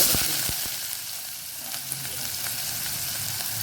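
Mustard seeds, asafoetida and curry leaves sautéing in hot oil for a ridge gourd dish, a steady close sizzle with a few sharp crackles and pops early on, no voices.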